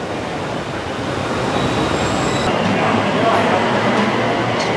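An electric Bangkok Skytrain car carries riders between Siam and Saphan Taksin, with a steady, loud rail rumble, faint wheel squeals and a brief murmur of voices in the background.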